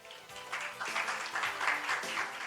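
Audience applause at a venture camp demo day and graduation ceremony in Korea, greeting a startup CEO taking the stage; steady broadband clapping from a crowd fills the room for a couple of seconds.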